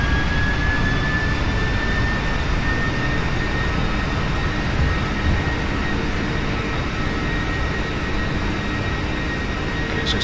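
Jet engine reverse thrust on a PMDG 747-400F freighter landing in the P3D flight simulator, a loud, steady, broadband roar with a thin high whine over it, lasting the full duration without pause.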